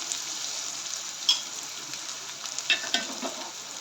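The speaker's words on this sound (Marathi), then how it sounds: "आता याच्या याच्यामध्ये थोडीशी हळद टाकून घेऊया आणि हे सर्व व्यवस्थित परतून घ्यायचं आहे" Sevai upma tempering sizzles with turmeric in a hot pan, a steady close frying hiss with a few light scrapes from stirring.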